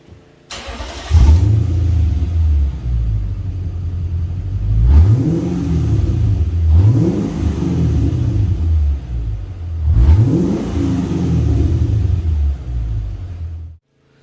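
A Lexus LS460 engine revs hard in three surging bursts over a steady idle rumble, loud and close, with a throaty exhaust note from exhaust flanges pulled apart.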